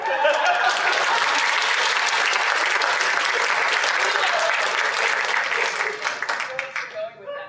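Enthusiastic audience applause for Nick at a convention panel on voice acting for animation and video games, a dense, even wall of clapping that holds steady before thinning out and tapering near the end.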